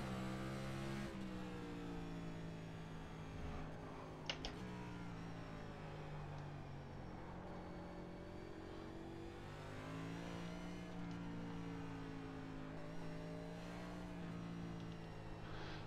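Mazda MX-5 race car engine in the iRacing simulator, a steady loud drone with strong harmonic tones that step up and down through gear changes and shifting revs, with no talk throughout.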